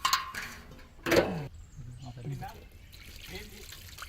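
Liquid is poured while making a watermelon milkshake; a soft trickle and splash runs mostly beneath close, frequent talking.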